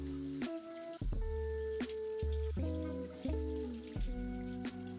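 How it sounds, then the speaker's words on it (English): Running water from a tap splashes over a vacuum cleaner's hair filter being rinsed, with uneven trickling and drips plus a few hollow knocks and tonal clatters from handling, faint and close. "rinse it under running water"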